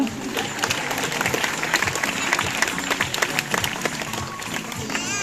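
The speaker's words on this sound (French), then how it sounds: "donc vous pouvez aussi l'applaudir." An audience claps steadily for several seconds, a dense patter of many hands filling the space at a lively, even level.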